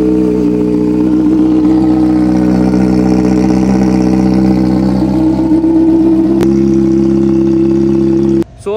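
A motorcycle engine runs loud and close at a steady, droning pitch for about eight seconds, then cuts off abruptly near the end; no one speaks.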